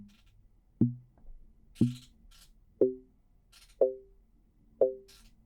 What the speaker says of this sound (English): And now it sounds more like some kind of percussion.